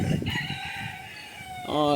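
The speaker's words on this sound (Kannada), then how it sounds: "ಇಲ್ಲಿ ಕೋಳಿಗಳು ಸಾಕ್ಯಾರ" A rooster crows among chickens kept by the roadside during a friends' trip from Hubballi to Tirupati, a short crow rising at the end over outdoor background noise.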